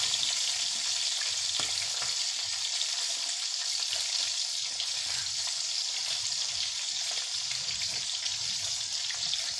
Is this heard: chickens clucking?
no